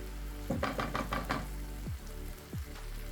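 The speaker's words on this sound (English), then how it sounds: "And while that's sizzling along," Onion and flour sizzling in a pan with a soft steady crackle, broken by a few sharp knocks and scrapes of a utensil against the pan.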